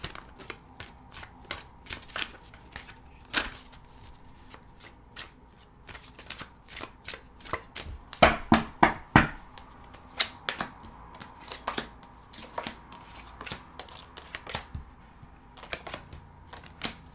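Tarot cards shuffled by hand in steady, papery riffles and taps, with a louder, denser burst of flicking partway through, close and without talk.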